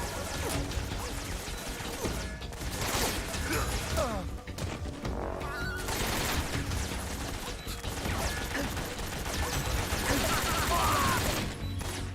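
Assault rifle gunfire in the stealth action game Metal Gear Solid 3: Snake Eater, dense bursts and cracks packed together, loud and continuous across a busy, chaotic game mix.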